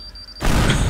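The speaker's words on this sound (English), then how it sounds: "Let's blow up Jerry's bee collection." A loud explosion booms in the physics game Teardown as a bee collection is blown up, a sudden broad blast after a faint high tone, continuing into a rumbling roar.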